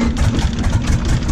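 A loud, steady T-6 trainer aircraft engine roar with a low rumbling drone after starting up, running continuously close by without pause or voices.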